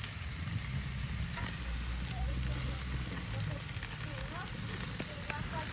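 Ribeye and fajita steak sizzle on a grill for a Tex-Mex carne asada, a loud, steady close hiss and crackle throughout.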